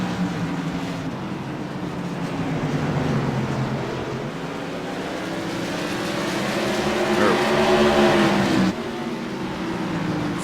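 CRA modified race cars roar around New Smyrna Speedway, a continuous loud engine drone with rising and falling pitch as cars pass, under a commentator's steady talk.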